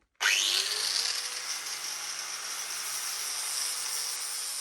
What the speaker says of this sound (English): Let's see if I can get enough paint cleared off.